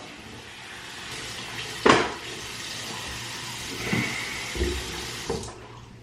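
Water runs steadily from a sink tap while hair is rinsed, a constant wash with a few louder splashes and knocks breaking through.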